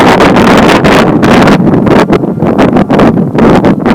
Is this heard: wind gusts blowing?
yes